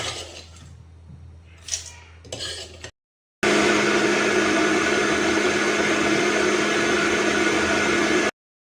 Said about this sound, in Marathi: आता मिक्सरमध्ये काढून घेऊ